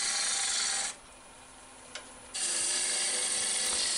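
A roughing gouge removes excess wood from a spindle turning on a lathe, a steady close hissing scrape that stops for about a second and a half, then resumes just as loud.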